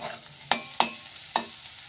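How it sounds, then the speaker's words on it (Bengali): Bitter gourd fries in a pan, a soft sizzle running beneath three sharp scraping clacks of a spatula stirring against the metal. "দেখো আমার করলা ভাজা হয়ে গেছে"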